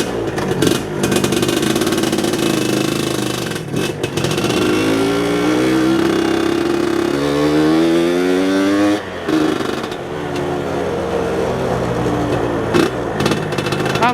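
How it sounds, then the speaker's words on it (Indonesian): Suzuki Satria 120R two-stroke motorcycle engine revving repeatedly, rising and falling through several sharp, buzzy throttle blips with brief dips, loud and close, no talk over it. "Ya inilah motor SMP gua. Waktu zaman gue SMP maksudnya. Satria 2 tak."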